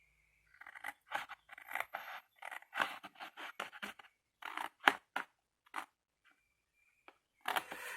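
Scissors cut ribbon straight across for small 6 cm ribbon boxes: a close series of crisp, dry snips and scrapes in irregular bursts, with quiet pauses between.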